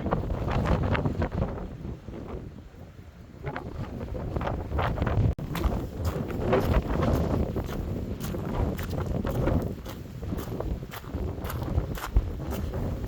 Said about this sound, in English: it's definitely remote, wild and windy out here